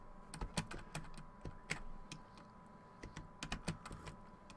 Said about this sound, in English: don't touch the keyboard